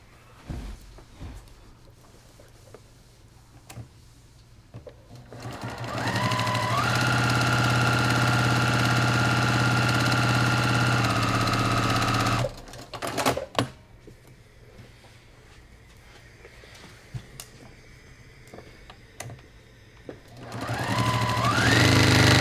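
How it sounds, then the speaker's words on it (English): A sewing machine stitches seam lines on fabric for a quilt block, running in a long steady whirring burst, pausing with faint handling noises, then starting up again at the end, close by. "I'm going to sew on these lines"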